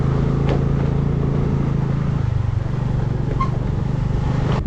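A scooter rides along an off-road dirt path toward Butterfly Beach in South Goa, its engine giving a steady, close, droning hum with little variation.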